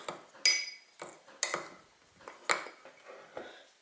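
A spoon clinks and scrapes in a bowl while stirring wheat flour with potato starch and baking powder, giving a few irregular, close, light knocks.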